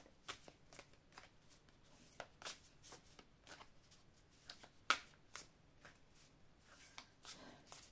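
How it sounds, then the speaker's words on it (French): Oracle cards being shuffled and spread out across a table, giving a series of soft papery flicks and slaps with irregular rhythm. One sharper snap stands out midway through. Close and fairly quiet, with no talking. "Alors, on va étaler les cartes."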